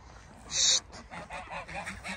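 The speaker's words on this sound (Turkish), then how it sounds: "Kazlar da buradalar." A goose gives a single loud, close honk in a Turkish village farmyard, followed by softer, scattered honks and calls from the flock.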